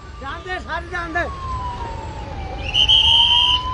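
Ambulance siren stuck in a traffic jam at a toll plaza, a steady wail and then a loud high electronic tone rising out of dense traffic rumble, preceded by a short yelp burst.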